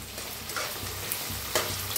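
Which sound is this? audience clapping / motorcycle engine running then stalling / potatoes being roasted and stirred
potatoes being roasted and stirred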